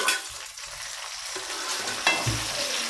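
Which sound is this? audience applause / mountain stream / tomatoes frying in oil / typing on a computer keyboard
tomatoes frying in oil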